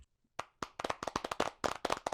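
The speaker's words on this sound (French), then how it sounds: "allez, applaudissez s'il vous plaît là-haut." Sparse audience clapping at a conference, a few hands near the mic striking in an uneven, irregular rhythm with brief gaps, after a short silent start.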